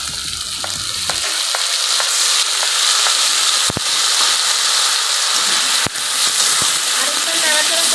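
Spice paste hits a hot pan of frying fish for a fish curry, setting off a loud, continuous sizzle. Scattered sharp pops and crackles run through the sizzle across the whole stretch.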